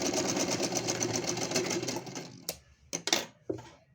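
Sewing machine double-stitching a net-fabric party gown, a fast, steady mechanical whir that stops after about two seconds, followed by a few sharp clicks and knocks from the machine and fabric.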